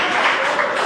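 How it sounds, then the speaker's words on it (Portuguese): Church congregation clapping hard together during a worship service, a dense steady wash of applause that holds through the whole short moment. "Aplauda bem forte o nome do Senhor."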